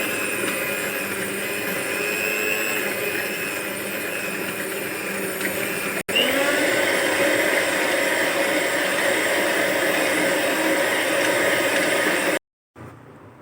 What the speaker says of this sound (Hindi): चीनी, अंडे और कुकिंग ऑयल अच्छी तरह हमने उसको फेंट लिया, बीट कर लिया